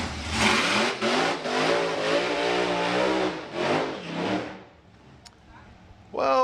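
A drag racing car's engine roars and revs hard at Santa Pod, loud and sustained for several seconds before cutting off, then another burst of engine noise starts at the end; a commentator talks over it.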